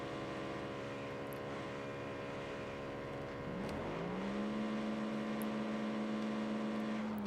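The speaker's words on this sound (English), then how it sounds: "Can hear the engines coming up to life." Race car engines in a racing video game come to life on the Orchard Road circuit, a layered mechanical drone that swells midway into a rising, steady engine tone, moderately loud and without speech.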